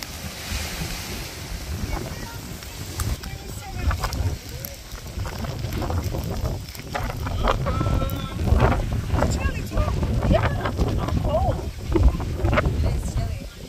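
Strong wind buffets the microphone in heavy low rumbling gusts, with water sloshing around a boat and a person talking over it, as rain approaches.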